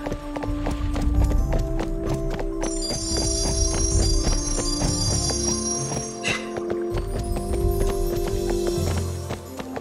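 Horse hooves clip-clop at a steady trot in Barbie Horse Adventures, a rhythmic run of hoofbeats over bright chiming game music and bell tones, loud and continuous.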